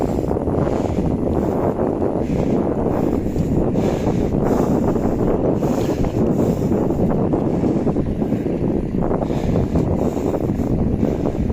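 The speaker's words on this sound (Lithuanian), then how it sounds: "yra toks vėjukas, tikrai nestiprus" Continuous light wind buffeting the microphone outdoors on a bicycle ride between Klaipėda and Nida, a dense rumbling roar that stays steady throughout with no voices.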